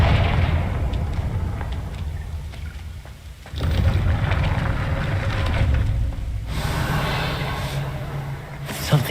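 The Confringo blasting spell in Hogwarts Legacy bursts out with a loud fiery crack and a rumbling blast. A second surge of noise follows, and game ambience continues under it.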